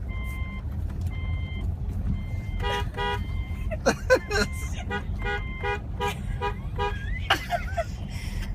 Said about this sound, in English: Are you gonna honk the horn?